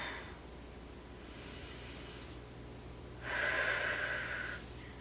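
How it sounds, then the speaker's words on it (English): A faint, close deep breath taken during a beginner Pilates reformer workout: a soft airy inhale followed by a longer, stronger exhale, with no speech. "Okay, deep breath."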